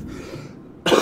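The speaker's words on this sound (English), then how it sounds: "That awkward trying to just breathe cough." A single rough, awkward cough, short and close, bursts out at the very end after near silence, with a throaty, strained edge.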